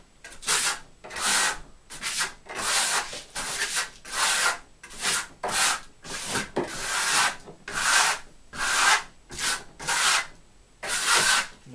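Trowel smoothing a lime Marmorino KS Venetian plaster base coat on a wall, a close rhythmic scraping rasp in about a dozen even strokes separated by brief pauses, no talking.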